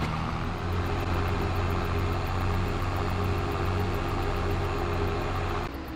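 A New Holland tractor engine in Farming Simulator 22 idles with a steady low drone, even and close, running alone for about six seconds before cutting off at the very end.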